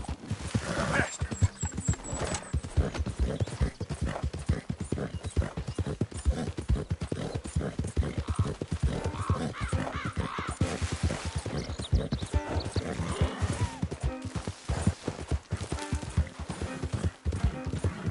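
A horse galloping in the video game Red Dead Redemption 2, fast rhythmic hoofbeats pounding continuously and close, with faint background game sounds.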